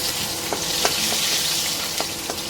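Garlic dropped into hot oil in a pan with dried red chillies, a loud steady sizzle with light stirring clicks, close and without talk.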